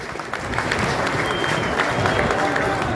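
Audience applause at an evening event: a dense, steady burst of many hands clapping together, loud and close, running unbroken for the whole stretch.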